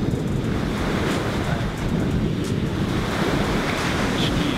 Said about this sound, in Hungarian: Itt ez a tök jó szél